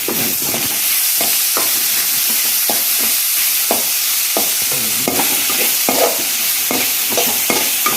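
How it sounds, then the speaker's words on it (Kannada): Tomato is stirred into chicken masala frying in a pan for a quick chicken fry, with a constant hissing sizzle punctuated by repeated spoon scrapes and clatters, close and without speech. "ಅದಕ್ಕೆ ಒಂದು ಟೊಮೆಟೊ ಹಾಕಿ ಮಿಕ್ಸ್ ಮಾಡಿ ಟೊಮೆಟೊ ಸ್ಮೂತ್ ಆಗುವವರೆಗೆ"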